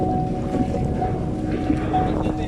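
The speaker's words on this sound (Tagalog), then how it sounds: "Lakas ng hangin." Strong wind after Storm Ulysses in Pandi, Bulacan roars steadily and buffets the microphone without pause, forming a dense, rough hiss.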